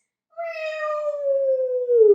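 A person imitates a cat's meow during a children's yoga class: one drawn-out, falling meow sound, clear and close, with nothing else around it.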